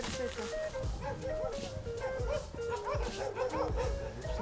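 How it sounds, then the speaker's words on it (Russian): Many dogs at an animal shelter for homeless dogs bark, yip and whimper together in a continuous chorus, close and fairly loud, while people talk over them. "Вот у нас здесь очень много собак находится"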